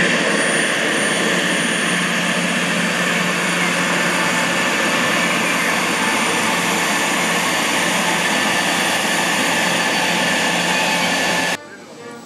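A passenger airplane on a resumed flight roars loudly and steadily at an airfield on arrival, with dense engine noise that holds at one level for about eleven seconds and then cuts off abruptly.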